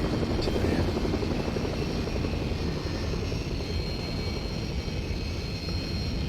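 A helicopter in the video game Fortnite drones steadily throughout, a constant rotor and engine hum with a high whine on top, holding even loudness for the whole stretch.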